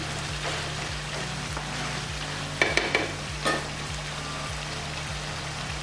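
Ground masala fries in oil in a pan for a country chicken curry, a continuous close sizzle with soft crackles, a steady low hum underneath and a few brief clinks of a utensil midway.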